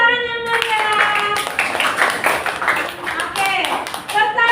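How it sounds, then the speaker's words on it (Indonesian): A school class gives lively applause, a dense patter of clapping hands mixed with children's voices calling out and chattering close by. "Tepuk tangan yang meriah."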